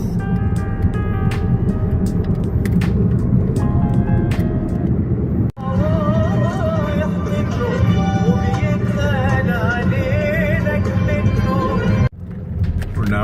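Car driving through Hizma, Palestine, on the road toward Ramallah, with a steady low engine and road rumble throughout, a brief dropout midway, and passengers talking over it.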